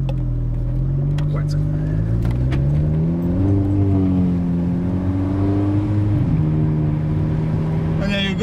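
An Audi S3 8V turbo engine revs and settles in a steady rising and falling drone, with a short hiss-like burst from a GFB DVX T9659 blow-off valve near the end.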